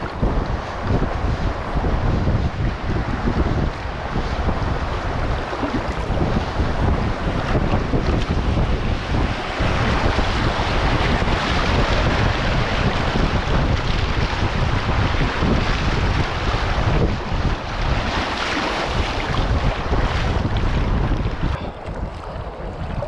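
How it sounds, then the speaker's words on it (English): Whitewater on the Staunton River roars steadily as a kayak runs a rapid, a continuous loud rush of churning water mixed with heavy wind buffeting the microphone. "It definitely appears to be a rapid, though I can't tell where necessarily."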